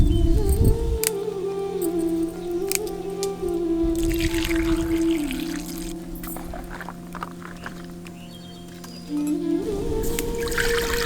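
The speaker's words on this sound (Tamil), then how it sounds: "இப்ப நம்ம பறிச்சு வச்சிருந்த பச்சை புளி எல்லாத்தையும் உடைச்சு தண்ணி ஊத்தி சுத்தமா கழுவி எடுத்துக்கலாம்." Raw green tamarind being broken up and rinsed in water, village style: steady pouring and splashing water runs throughout, close and fairly loud, easing off briefly before picking up again near the end.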